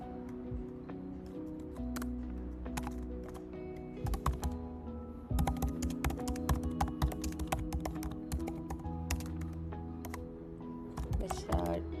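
Computer keyboard typing, steady bursts of clicking keystrokes close to the microphone, running almost continuously with short pauses and denser flurries in the second half.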